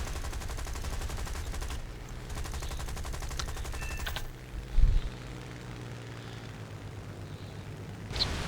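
A Yak-9 fighter's aircraft gun hammering in rapid bursts as the plane roars past in a War Thunder air battle, dense fire cutting off abruptly, followed by a thump and a quieter engine drone.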